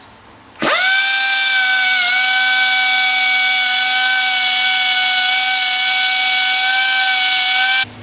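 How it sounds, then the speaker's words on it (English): A handheld air sander, run against a heated-grip edge on a Suzuki GSX-S1000, whines loud and steady with a sharp high pitch for about seven seconds, then cuts off abruptly. "So using the air sander to assist"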